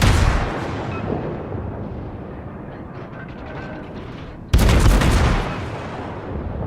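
Rapid booming gunfire from the Atlanta cruiser in World of Warships, a dense continuous barrage of overlapping shots under battle noise, with a sharp louder volley bursting in near the end.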